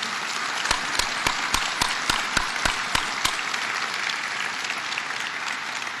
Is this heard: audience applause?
yes